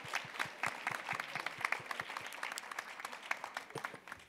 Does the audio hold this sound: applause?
yes